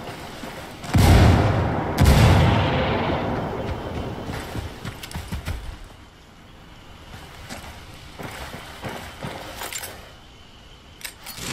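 In a video game firefight, a grenade blast and gunfire give two loud, sharp bursts near the start, each with a booming low rumble, then fade to scattered quieter crackles and clatter.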